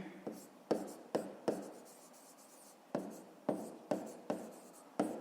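A pen scratches out an answer on paper for a math exercise: a series of short, quiet strokes in irregular bursts, close to the microphone, with a soft voice nearby.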